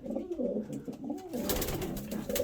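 Pigeons coo continuously in a breeding loft, several overlapping soft rolling calls close by, with a rustling wing flutter partway through.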